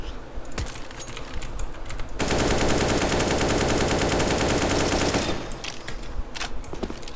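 Counter-Strike: Global Offensive rifle spray, a sustained burst of rapid automatic fire lasting about three seconds, loud and close, framed by quieter keyboard and mouse clicks before and after.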